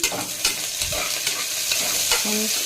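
Onions and green chilies fry and sizzle in hot oil for a chicken biryani, with the pan stirred repeatedly by a utensil. Steady close sizzling runs through, and scraping strokes break in at irregular points.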